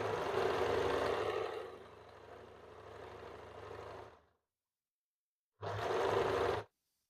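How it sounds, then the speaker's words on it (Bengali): A sewing machine stitching a folded blouse neck band, a close steady motor whir that slows and stops, then after a short silence a second brief burst of stitching. "এই গলার পট্টিকে ভেতরের দিকে ফোল্ড করে আমি সেলাই করে নিচ্ছি"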